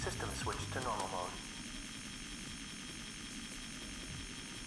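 Several aircraft fly in the Armored Core 2 video game, making a steady low droning rumble that continues after a brief voice at the start.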